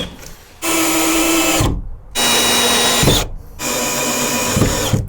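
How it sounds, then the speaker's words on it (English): A hole saw on a power drill cutting a hole during a 12V van air conditioner install: three loud sustained whirring, grinding runs separated by brief pauses, close up and alone. "So we're going to drill another hole with the hole saw here"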